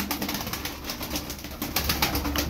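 Pigeons cooing nearby in a repeated soft throaty rhythm, several overlapping calls over a steady background.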